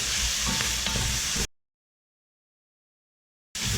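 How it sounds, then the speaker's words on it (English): Pork stir-frying in a pan for a Japanese pork miso soup, giving a steady loud sizzle that cuts off abruptly into silence before returning near the end. "We're going to stir fry this a little bit"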